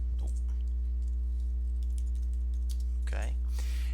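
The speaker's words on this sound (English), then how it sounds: "So I'm going to type in" Keystrokes on a computer keyboard tap out a short word in a few quick bursts over a steady mains hum, fairly faint and close, with a brief vocal sound partway through.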